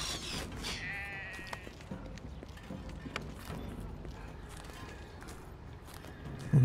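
A black sheep bleats briefly near the start of the video game Drova – Forsaken Kin, followed by steady game ambience with faint clopping hoofbeats throughout.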